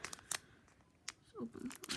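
A few quick, crisp scissor snips cut open a Pokémon card pack's thin foil, with light crinkling between the cuts, close and fairly quiet.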